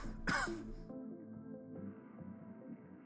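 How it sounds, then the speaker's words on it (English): A person coughs once, sharp and close, followed by a quiet hum of game background music. "Apologies for the coughing."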